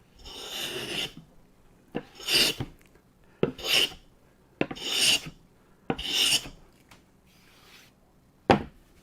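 Stanley No 12 cabinet scraper pulling thin shavings off wood, heard as six or seven crisp rasping strokes with short pauses between them, close by and isolated.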